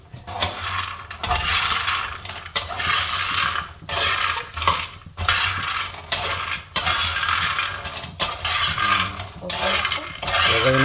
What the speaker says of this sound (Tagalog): Ayan na yung buto ng kakao. Piniprito na. Pero wala yung mantika.